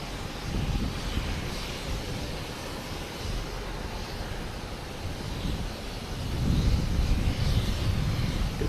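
A JetBlue airliner landing at Boston Logan Airport makes a steady broadband engine roar with wind rumble, holding level and then swelling louder in the final seconds, heard alone at some distance.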